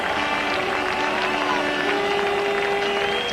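Broad, steady roar of a cricket stadium crowd applauding and cheering as India reach 100 runs against Australia at the 1999 Cricket World Cup, distant and diffuse with commentary-like voices mixed faintly in.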